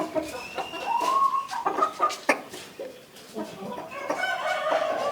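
Chickens clucking close by, a series of short, uneven squawks and clucks with a few longer calls, moderately loud against a quiet background.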